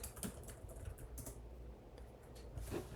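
Typing on a computer keyboard while renaming a code symbol, a few soft, faint key clicks in short bursts, no speech.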